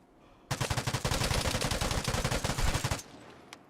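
Rapid automatic gunfire in the online shooter Vigor, a loud burst of evenly spaced shots lasting about two and a half seconds. A faint click follows, with no talking.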